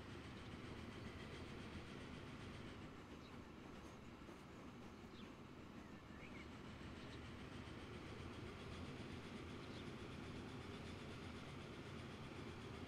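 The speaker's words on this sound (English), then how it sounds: "when some trains arrive to take the iron ore away from the central station here" Trains roll along rails past a central station with iron ore in the Transport Fever 2 video game, a steady low rumble with faint rhythmic clatter sustained throughout, with no voices.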